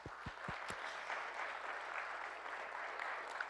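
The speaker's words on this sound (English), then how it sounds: "Let's just give them a hand clap." Faint, distant applause from a community education event audience, a few separate claps at the start, then steady soft clapping continuing throughout.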